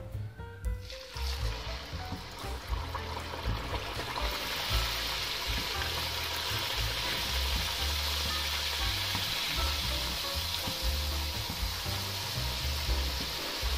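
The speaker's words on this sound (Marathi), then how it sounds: "तेल गरम झालेलं आहे, आता आपण पुऱ्या तळूया।" Pumpkin puris deep-frying in hot oil over a medium gas flame, a loud continuous bubbling sizzle that swells after a brief quieter start and carries on steadily up close, no talk.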